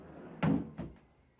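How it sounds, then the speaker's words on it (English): An overhead wooden cabinet door in a newly fitted-out house closet swings and closes nearby, a solid thunk followed by a lighter second knock, with no talking. "And then overhead cabinets for items that are bigger or they don't need to access that much or always."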